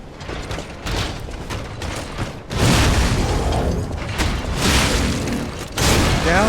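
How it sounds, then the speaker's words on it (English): Heavy booming blasts from a shotgun in the action game Lies of P, loud and close, with clanking mechanical weapon sounds and layered combat noise between the bursts. "shotgun"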